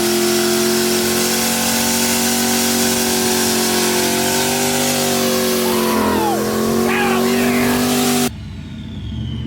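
Modified Mazda Miata engine with a gruff, diesel-like tone drones loudly and closely, its pitch holding steady and then wavering before it stops sharply near the end.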